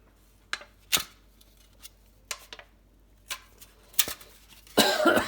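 Person coughing a few times in a workshop full of aluminium shavings, short dry bursts spread out with quiet gaps, then a louder rough burst at the end.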